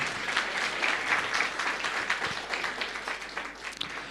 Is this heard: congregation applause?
yes